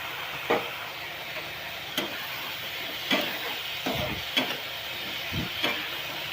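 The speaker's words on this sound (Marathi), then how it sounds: "चांगला परतून घेऊया याला." Steamed potatoes sautéing in a pan for a Marathi dry potato bhaji, a low steady sizzle broken by about six distinct spatula knocks and scrapes at a loose, irregular pace, nearby and without talk.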